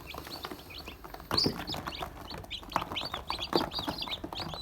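Hens and young chicks cluck and cheep steadily while eating millet feed in a backyard coop, with many overlapping birds close by and a louder squawk partway through.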